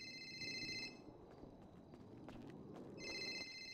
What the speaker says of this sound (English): I'll get a phone call.